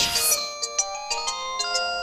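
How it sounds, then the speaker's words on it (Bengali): A telephone rings on a call to a police station, a clear electronic ringtone pattern of quick repeated tones heard up close with no talk. "রিং হচ্ছে।"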